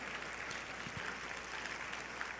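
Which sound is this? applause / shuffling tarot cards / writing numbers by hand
applause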